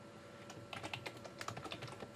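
Fingers type a password on a computer keyboard, a quick run of soft, close key clicks in a quiet room with a faint steady hum behind.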